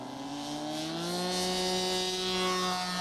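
A small scale SNJ model airplane engine is heard taking off at a radio-controlled aircraft show, giving a steady, high-pitched droning buzz that rises slightly in pitch as the plane climbs away.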